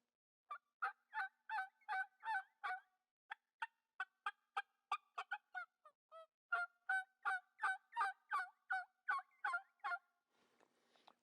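An uncut latex turkey mouth call blown in a long run of high-pitched, clear yelps, about two dozen evenly spaced notes with a short pause midway, close and alone.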